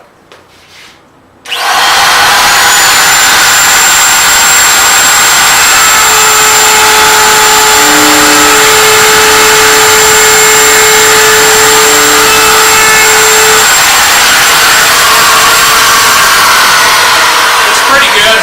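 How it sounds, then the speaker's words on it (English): A small one-horsepower router cuts cabinet parts, its high steady whine starting abruptly and running loud and unbroken for many seconds with slight shifts in pitch as it bites into the wood. "Usually these little one-horse routers are just the ticket"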